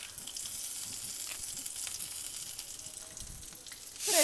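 Curry leaves sizzle and crackle in hot oil in a pan, a soft continuous frying hiss with a louder rush at the very end.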